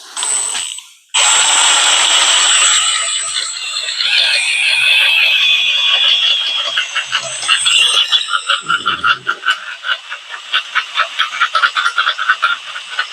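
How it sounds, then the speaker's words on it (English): A 135-degree cobalt split-point drill bit cuts through metal during a loader kit installation, giving a loud, sustained high-pitched squeal that shifts into rapid rhythmic chattering toward the end, heard alone without talk. "135 degree cobalt drills with a split point. You should just be able to rip right through it."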